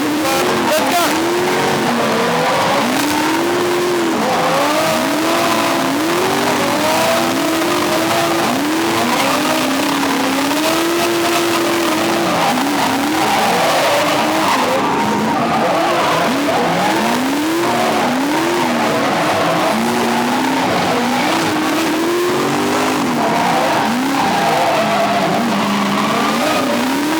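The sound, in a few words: drift car skidding during chase run, in-car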